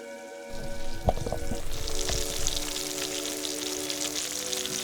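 Vegan alkaline fried chicken sizzles and crackles steadily in hot frying oil, a close, dense bubbling hiss with a few sharper pops near the start and no talking over it.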